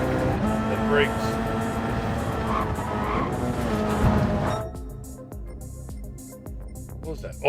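Race car engines roaring and tires squealing in the Gran Turismo 7 racing game, a loud dense drone that cuts off abruptly into quieter engine hum with scattered clicks, with talk over it.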